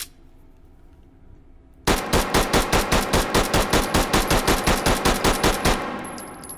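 A SIG P226 pistol fires at a paper target in the VR shooting game H3VR, about twenty loud, evenly spaced shots in one rapid burst after a quiet start, then silence.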